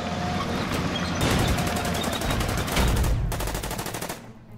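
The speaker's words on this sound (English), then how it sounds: "Let's move up with another one of our tanks here, open fire." Tank and artillery gunfire in a WW2 strategy video game set at the Battle of Dunkirk: dense, continuous bursts of rapid firing and booming shots layered over each other, loud and close, with no talking.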